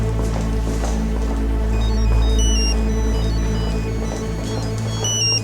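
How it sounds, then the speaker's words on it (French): A mobile phone rings during a wedding, playing a melodic electronic ringtone in repeating bright tones over a steady low hum, fairly loud and unbroken with no talk. "Ton téléphone qui sonne en plein mariage."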